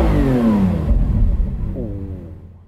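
A Lamborghini Aventador SVJ's V12 engine revs loudly up and down, a rising and falling roar with a second climb near the end, close and prominent, with some possible voice underneath.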